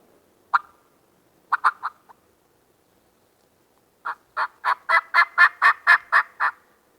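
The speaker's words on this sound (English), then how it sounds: "They're gobbling good, though." Wild turkey gobbling in mountain country, a few separate gobbles early, then a long run of about ten loud rhythmic gobbling bursts close by.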